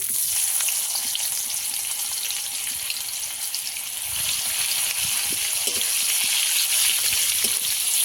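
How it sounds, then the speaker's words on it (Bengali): Chopped onions fry in hot oil for Bengali doi bhetki fish curry, a steady dense sizzle with crackling spits that continues evenly and close up throughout. "কুচানো কেটে রাখা পেঁয়াজ দিয়ে দেব"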